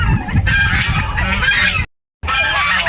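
Four-month-old turkeys calling just after release, loud nasal honking gobbles in quick overlapping bursts, close by, with a brief gap of silence near the end before the calls resume.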